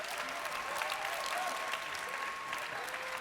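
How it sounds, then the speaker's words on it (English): Audience at a MagicCon Amsterdam cosplay contest applauding the judges, a steady, dense wash of many hands clapping throughout, with some crowd noise and a faint tonal hum underneath. "let's give it a round of applause here for our judges,"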